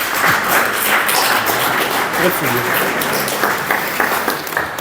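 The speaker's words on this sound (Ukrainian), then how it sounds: "син Віталій Шуляр, якого прошу запросити на аплодисменти." Audience applause at an architecture lecture honoring restoration work at Lviv Polytechnic National University, a steady dense wash of hand clapping from a large crowd, sustained loud throughout.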